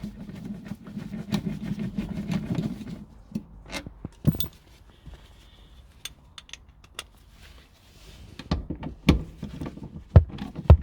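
Front seat bolts with M10 spline heads being undone on an Audi A3 8P: scattered metallic clicks, ratcheting taps and clunks close by, with a low rumbling stretch at the start and quieter handling noises between.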